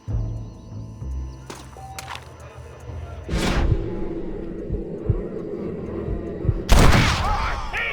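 Gunshots in Red Dead Redemption: a couple of sharp booming blasts, one near the middle and a louder one toward the end, over low rumbling game ambience.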